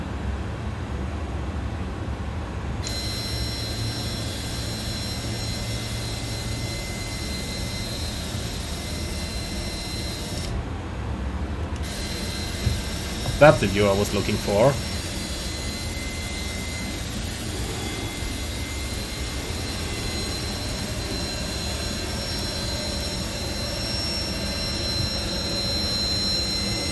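An Airbus A300-600 jet engine spools up in a flight simulator as a steady, rising turbine whine and roar. Someone speaks briefly partway through.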